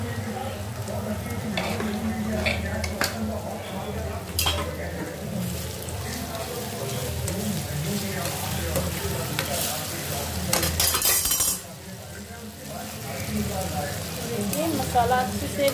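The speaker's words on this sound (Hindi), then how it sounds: "मसाला अच्छे से भून रहा है यहाँ पर" Masala sizzling and frying in a pan while being stirred for dal palak, a steady close crackle with scraping spoon strokes and occasional clinks, continuous throughout with a brief louder burst near the end.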